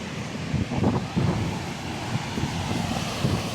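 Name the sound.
strong typhoon wind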